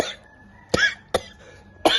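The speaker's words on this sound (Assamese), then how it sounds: "কাহ হৈছে ন কাহ হৈছে তোমাৰ" A person who has been smoking cigarettes coughs three times, sharp and close, each burst separated by brief quiet, with no talking.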